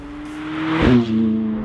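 McLaren 675LT supercar on the road, its engine droning steadily and close, then swelling into a brief rev and settling back to a smooth hum.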